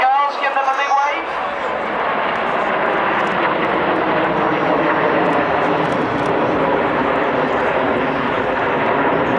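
Red Arrows jet aircraft in display formation roar past in a loud, sustained rushing drone that fills the whole stretch. A brief voice is heard at the very start.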